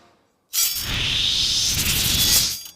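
A reverse tink sound effect: a short, bright, swelling shimmer of metallic noise that rises quickly from silence, holds for about two seconds, and cuts off abruptly, heard alone.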